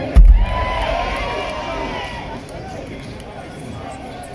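Outdoor concert crowd at Kew cheering for a drummer, a thump at the start then a dense roar of cheering and shouting that gradually fades while staying busy.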